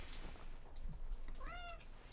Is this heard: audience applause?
no